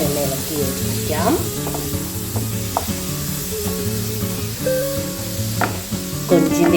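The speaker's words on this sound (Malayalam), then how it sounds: "എന്നിട്ട് നന്നായി ഒന്ന് ഇളക്കി യോജിപ്പിക്കാം." Prawn roast stirred in a hot pan after boiling water is poured in, giving a loud, steady sizzle with scraping spoon strokes and occasional sharper clinks against the pan.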